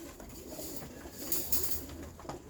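Caged pet birds waiting for a bath give soft, steady cooing with no one talking, a low murmur running through the whole moment.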